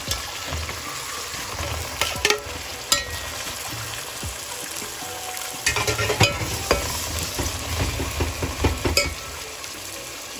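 Onions and tomatoes fry in a pan for vegetable biryani, giving a loud, steady close sizzle broken by scraping stirring strokes, with no talking.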